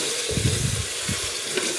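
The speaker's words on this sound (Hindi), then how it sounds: "गोश्त और ये लहसुन को फ्राई कर लेंगे।" Mutton pieces and garlic fry in a pot for a Kabuli pulao, giving a steady, fairly quiet hiss and sizzle with light stirring clatter and no talking.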